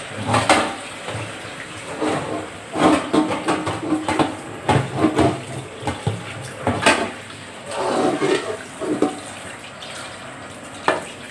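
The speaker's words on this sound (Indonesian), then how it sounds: "kita buang dulu airnya kita perlu cuci deh guys kita cuci terus" Beans and okra are rinsed in water, with running tap water, splashing and sloshing in bursts, and clattering handling of the vegetables nearby, without any talk.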